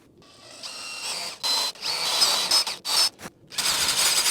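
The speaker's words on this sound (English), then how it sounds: "drill this out." A 3/16 drill bit bores a hole into a billet clip-on handlebar on a Honda GROM, heard as close, loud whirring bursts that start and stop several times, with short pauses between runs.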